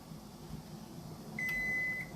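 A kitchen timer goes off while strawberry preserves cook on the stove, giving a single sustained electronic beep of under a second over a steady low background hum.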